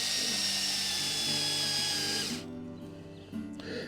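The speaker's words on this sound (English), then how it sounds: "And I'm killing the battery on my drill here." A cordless drill drives a ground anchor for a ham radio antenna mast, its high motor whine running steadily and close before cutting off abruptly, leaving a low hum.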